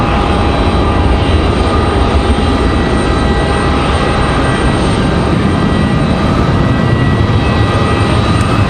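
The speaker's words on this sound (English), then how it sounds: "So there goes our American. Good sounding departure there. Leaving 5 right." An American Airlines airliner takes off from runway 5 right, its engines a loud, continuous broadband roar with a steady whine that never lets up.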